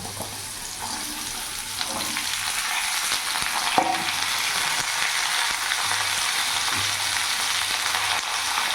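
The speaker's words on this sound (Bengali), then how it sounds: "ফোড়নটা ভাজা হয়ে গেছে, এখানে আমি কেটে রাখা ঝিঙেগুলো দিয়ে দেবো।" Chopped ridge gourd hits a hot tempering of spices and dried red chilli, setting off a loud, continuous close sizzle that runs steadily for several seconds with a single brief clink partway through, and no one speaking.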